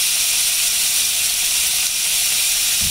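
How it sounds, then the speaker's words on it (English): Beef short ribs searing in a hot pan, a steady loud broadband sizzle and hiss that holds evenly throughout with no talking. "They only need to sear for about 60 seconds on the side."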